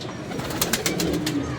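Pigeons cooing at a house doorway, a short series of soft rhythmic coos rising over a quiet background, fairly close, with no talk.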